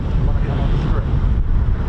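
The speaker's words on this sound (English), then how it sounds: "it's now gusting 30 to 40 miles an hour" Strong gusting wind buffets an outdoor microphone at an RAF airfield, a loud continuous low rumble with rushing noise that swells and dips throughout.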